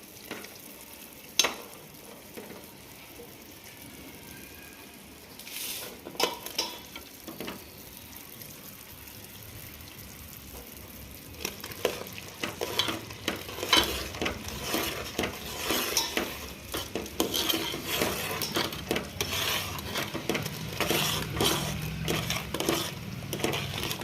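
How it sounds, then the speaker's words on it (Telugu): Ground chana dal flour being stirred into hot jaggery syrup in a pan, a sparse start giving way to dense scraping and clinking of the spoon against metal with a faint bubbling sizzle, growing busier toward the end; no talk. "కొద్దిగా వేసుకుంటూ కలుపుకోవాలి, ఉండలు లేకుండా."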